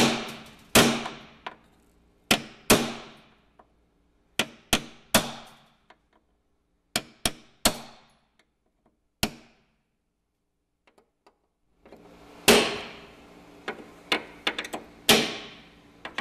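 Center pins are hammered out of running board rivets for a BDX/SSI Ascender-Pro install. Sharp metallic hammer strikes ring out singly and in quick pairs, separated by quiet gaps, with a denser cluster of blows near the end.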